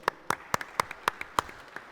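Sparse, sharp hand claps from an audience at the Czech-Israeli Forum on Innovations, about eight distinct claps spread over two seconds, irregular and moderately close, with no voices.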